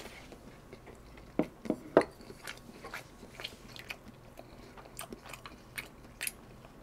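Close, crisp biting and crunchy chewing while eating a home-made Korean seafood miso stew (doenjang jjigae), with several sharp bites early on followed by softer irregular chews and mouth sounds, no talking.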